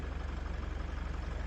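Restored Ebro 160 tractor engine idling with a steady, rapid low-pitched chugging pulse, close and continuous with no voices.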